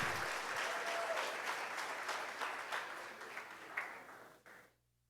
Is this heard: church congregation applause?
yes